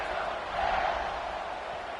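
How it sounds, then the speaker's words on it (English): A stadium crowd at a college football rivalry game at kickoff, with a distant, muffled roar and cheering that swells briefly midway. "this crowd now ready to get behind them"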